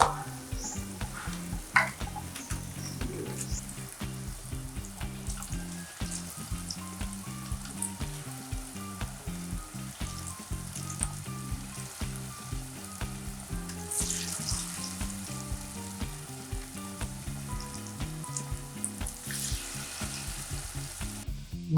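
Pentol meatballs fry in hot oil with a loud, steady sizzle and crackle, broken by occasional stirring scrapes, continuous and close with no talking.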